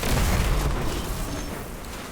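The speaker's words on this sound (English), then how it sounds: "I was blinded when throwing that nade" A grenade detonates in Destiny 2, a dull booming blast with low rumble that fills the whole stretch and slowly fades, loud and close with no voices over it.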